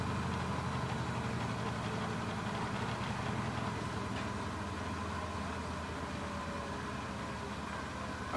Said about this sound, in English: I think this machine was kind of like a short spin